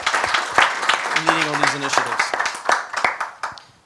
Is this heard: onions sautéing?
no